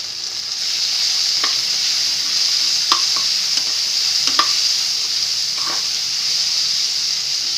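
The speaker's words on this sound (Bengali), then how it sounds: "কাঁচামরিচটা একটু ভাজা ভাজা হলে" Green chillies fry in a pan, making a continuous loud sizzle with several sharp scraping stirs of a utensil against the pan, heard up close without any talking.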